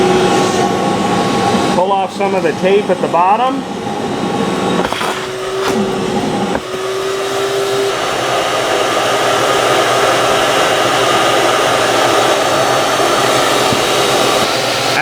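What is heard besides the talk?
vacuum running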